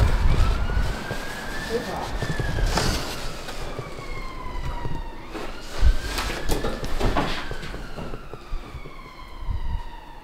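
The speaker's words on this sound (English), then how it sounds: "So yeah guys, we just hear a cop car." A police car siren wailing with rising and falling sweeps, moderately distant, heard from inside a large abandoned manor hotel over steady background rumble, with a few knocks and thumps nearby.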